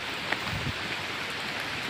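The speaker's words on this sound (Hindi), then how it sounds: "बारिश तो हो ही रही है।" Steady rain falling during a walk on the pilgrimage trail up Parasnath, a dense even hiss of drops throughout, close and moderately loud, with a couple of faint knocks and no talk.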